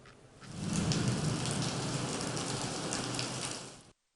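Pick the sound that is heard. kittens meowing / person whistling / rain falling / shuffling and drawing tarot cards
rain falling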